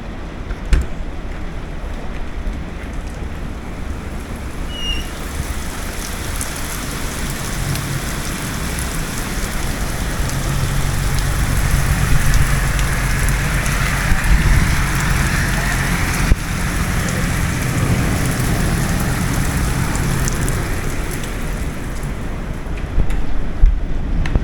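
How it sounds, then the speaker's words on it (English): Steady, dense thunderstorm rain pours down continuously, a broad hiss with low rumbling underneath, growing slightly heavier midway; no voices. "Got some pretty good thunderstorms coming through here."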